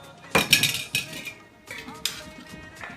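Metal utensils clink and scrape against a dish as curd is spooned out for lassi, in a few separate bursts of ringing clatter at close range with quiet pauses between.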